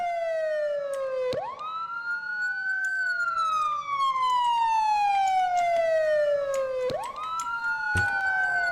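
Police siren in the MTA (GTA) video game: loud, close wailing tone that sweeps up and down in long cycles, steady throughout with no talk over it.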